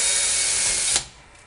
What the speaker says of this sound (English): it's sometimes good to drill a pilot hole, not all the way through, just through the very first layer of bamboo